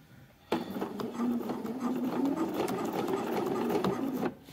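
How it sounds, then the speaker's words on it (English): A sewing machine runs a steady edge stitch along boxer shorts, starting abruptly and whirring evenly at close range for several seconds before stopping. "now I've come off onto the underneath side, and I'm ready to edge stitch all the way up."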